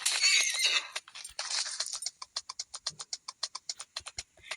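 A horse in the video game Free Fire whinnies loudly for about two seconds, then a quick, even run of hoofbeat clip-clops follows close up with no talk.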